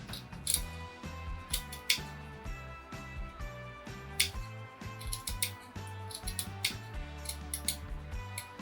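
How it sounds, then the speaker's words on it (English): Scissors trim excess fabric from a handmade mini primitive scarecrow hat, giving a close, steady run of small crisp snips and clicks with no talking. "I'm just going to cut off any of that excess."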